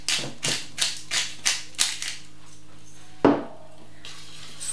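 Spoon scrapes and taps against a pan while parsley sauce is stirred, a rhythmic series of about seven clinks followed by a sharper knock and quieter scraping, close and alone.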